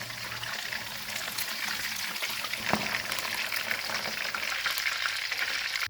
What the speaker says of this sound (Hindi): चिकन फ्राई हो गया, इसको निकाल लेते हैं।